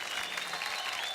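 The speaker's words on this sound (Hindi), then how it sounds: "जोरदार तालियां" Brief, fairly quiet applause from an audience after a stage performance at a talent contest, with steady crowd clapping lasting just over a second.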